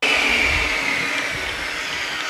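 A table saw cuts through wooden boards with a loud, sustained high whine that starts abruptly and holds steady, easing slightly as the blade runs on, no talk.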